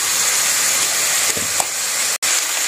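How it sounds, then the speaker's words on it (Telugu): Chopped vegetables frying in hot oil for sambar give a loud, steady sizzle and hiss, heard up close with a couple of faint clinks and a brief break near the end. "ఇప్పుడు కాయగూరలన్నీ వేసేస్తున్నాను."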